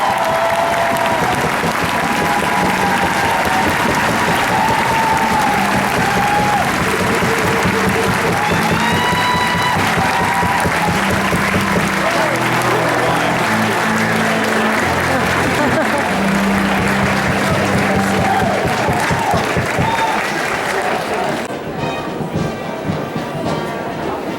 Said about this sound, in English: please join us in a round of applause for the United States Army Infantry Squad